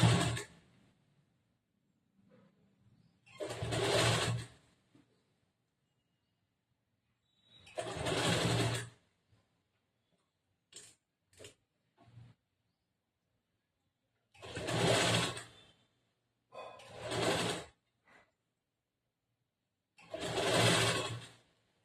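A sewing machine stitches a blouse sleeve at a half-inch seam during a tailoring class, running in five or six short bursts of a few seconds each, separated by pauses and a few faint clicks, with no talking.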